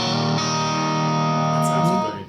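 Vintage Fender Stratocaster on the combined neck and middle pickups, a chord ringing with a sustained, slightly effected tone for about two seconds, close and fairly loud.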